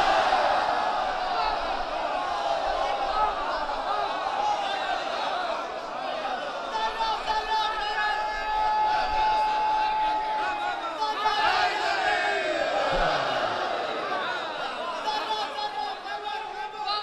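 A large crowd at a religious majlis chants slogans together, a loud massed roar of many voices rising and falling over an extended stretch, with a speaker's amplified voice woven through it.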